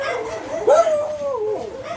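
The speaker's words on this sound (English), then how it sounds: "All the dogs are being decanted." A dog howls and whimpers at an animal rescue centre during sewer and septic tank work, a wavering rising-and-falling cry in the foreground, loud and close, with other faint canine noises around it.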